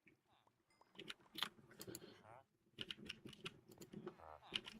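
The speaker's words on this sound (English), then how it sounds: "so I know y'all hear me clicking a million times" Brisk keyboard and mouse clicks from a computer running Minecraft are picked up by a nearby microphone, sharp ticks that come in rapid bursts with short pauses between them.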